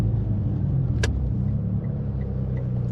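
A Mitsubishi Evo X running an E85 tune rumbles steadily close by as it pulls away at low speed, with one brief sharp click near the start.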